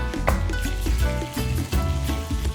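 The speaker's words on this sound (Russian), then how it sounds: "Красиво зашкварчало." Lamb ribs fry in a pan over maximum heat, giving a steady, loud, close-up sizzle with crackling bursts throughout.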